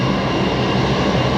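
A Qantas 737 landing at Brisbane Airport makes a loud, continuous jet roar that fills the whole moment, close and unbroken, with no voices over it.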